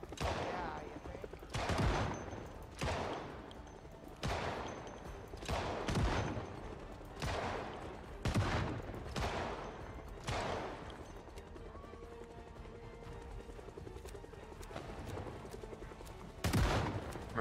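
Gunfire against zombies in the video game Project Zomboid: a steady run of about a dozen sharp, evenly spaced shots, each a separate crack, heard fairly faintly over quiet background.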